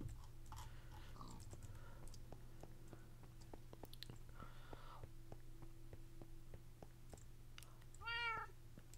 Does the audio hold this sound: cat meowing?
yes